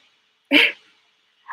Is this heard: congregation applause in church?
no